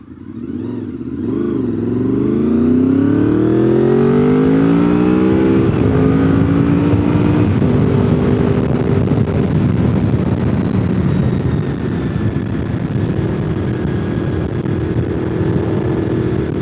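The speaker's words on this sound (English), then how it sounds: "that's the best part about owning a VFR, is being able to hear those gears just whining and crying underneath you." A Honda VFR motorcycle rides hard through a mountain road, its engine climbing through gears with a pronounced whining gear tone over a loud, close, continuous roar.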